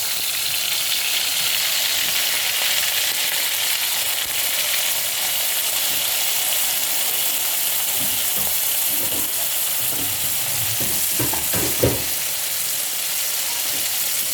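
Ground onion paste frying in a pot, a dense, steady hiss of sizzling oil throughout, joined later by a few soft stirring knocks and scrapes close by.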